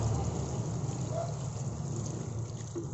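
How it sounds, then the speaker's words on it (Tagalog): Water poured steadily over a small compost bin, a continuous soft splashing wash that runs the whole time at an even level with no talk. "Basahin lang ng tubig."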